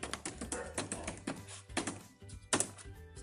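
Keys clatter on a computer keyboard as a channel name is typed into a search box, quick bursts of close taps with short pauses and a sharper final keystroke, no voices.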